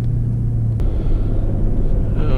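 A Toyota Land Cruiser engine runs steadily while the vehicle is driven, a continuous low rumble with a droning hum, close and fairly loud throughout.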